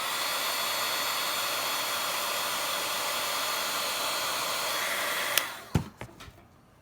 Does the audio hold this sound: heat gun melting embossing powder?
yes